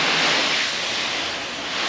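A steady, hissing rush of water spraying hard from a hose onto a car's convertible top, close by and continuous without a break.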